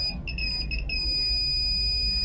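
A multimeter sounds its continuity beep while probing a display-light capacitor on a dead mobile phone with a half short. The loud, steady, high electronic tone flickers briefly at first, then holds continuously.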